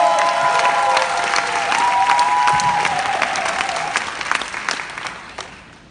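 A seminar audience breaks into sustained applause to welcome a speaker onstage, dense clapping filling the room with a few louder individual claps near the end before it fades out; a faint tone hums beneath early on.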